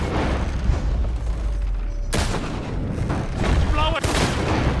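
Gunfire in Red Dead Redemption 2, loud sharp shots breaking through a busy, rumbling battle mix with wagon noise, a couple of distinct blasts standing out, with voices shouting underneath.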